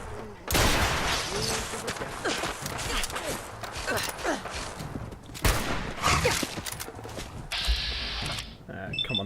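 A hunting rifle in Fallout 4 cracks off several sharp, loud shots amid combat, with mechanical bolt clicks and clatter between reports, followed by a brief bright whine near the end.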